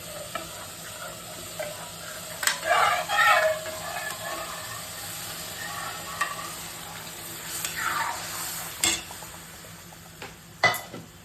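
Spiced water coming to a boil in a pot for a duck egg and gourd dalna, a low bubbling hiss with occasional utensil clinks and stirring knocks close by.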